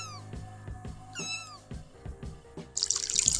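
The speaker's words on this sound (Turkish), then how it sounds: "Aslında müzik değil. Bir kedi sesi arkadaşlar." A Samsung SGH-D900i phone ringtone: a cat meows repeatedly in short rising and falling cries over a steady tonal background, then a hissing, splashing waterfall sound swells in at the end.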